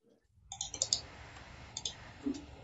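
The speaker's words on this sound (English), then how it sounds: "I'm typing" Light clicking of keys on a computer keyboard during an online webinar, a few quick bursts of taps with short pauses, faint and close.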